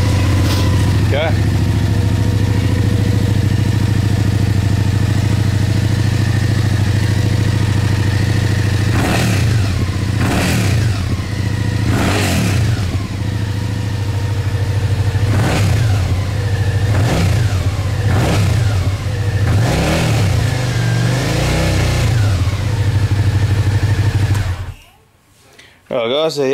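A 2011 Suzuki SFV 650 Gladius motorcycle with a Yoshimura aftermarket exhaust idles with a deep steady throb, then revs several times in sharp swells, loud and close, before cutting off near the end.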